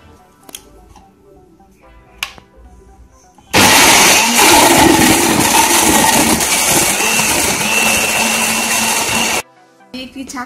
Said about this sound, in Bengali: আমরা টমেটোগুলোকে এখন ব্লেন্ডারে ব্লেন্ড করে নিব।